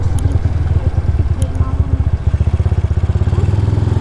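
A motorcycle rides along a road before dawn with a steady, close, pulsing engine putter, and a person speaks over it at times.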